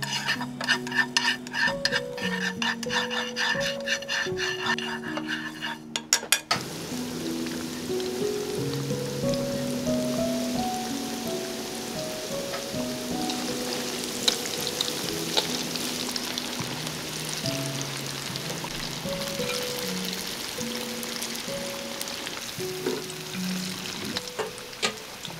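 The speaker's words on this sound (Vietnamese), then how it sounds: "Trong lúc chờ chiên gà chín thì mình rang một ít hạt mè trắng để lát nữa mình rắc lên gà cho thơm" White sesame seeds toast in a pan while chicken fries nearby, a continuous soft sizzle and crackle heard close under steady background music.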